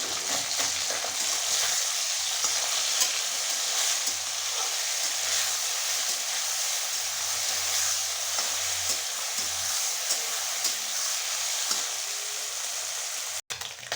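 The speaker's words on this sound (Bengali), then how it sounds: "মাছগুলোকে লাল লাল করে ভেজে নেব।" Puti fish frying in oil in a wok, with a continuous close, loud sizzle and crackle and occasional stirring scrapes throughout.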